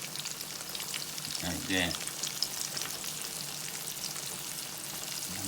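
Ranch-seasoned ribs fry in hot oil with a steady, dense sizzle and crackle throughout. A brief louder splash comes as more pieces go in, and a voice speaks briefly.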